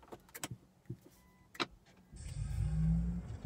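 A few soft clicks and taps, then a Chevy Volt's chiming electronic startup tone swells in over a low hum and holds steady.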